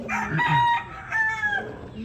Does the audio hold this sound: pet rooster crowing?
yes